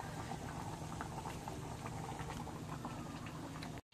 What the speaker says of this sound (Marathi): इकडं पण बघा कालना कसला उकळ आला आहे बघा मस्तपैकी